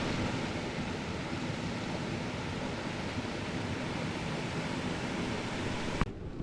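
A waterfall in Barron Canyon, Algonquin Park, roars as a steady, dense wash of rushing water throughout, with a brief sharp knock near the end and no talking.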